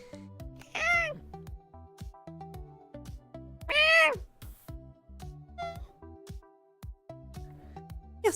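A person imitates a cat, giving two drawn-out, wavering meows with softer chirps and clicks between them, close and clear over a quiet background.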